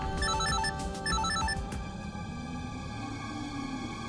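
A telephone rings with rapid trilling electronic bursts in two quick groups, followed by a sustained tonal hum over a busy indoor background.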